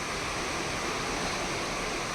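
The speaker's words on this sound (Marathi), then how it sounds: "बघ पाऊस कसा पडतोय कसा पाऊस पडतोय बघा" Heavy rain pours down in Nashik in a dense, unbroken roar, steady and loud throughout with no other sounds standing out.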